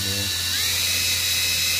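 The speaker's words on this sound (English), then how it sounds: "Sorry about the noise from the drill" A power drill runs steadily while mixing epoxy for a cutting board pour, a continuous high whine that stays loud and close throughout the short stretch, with a brief low hum at the start.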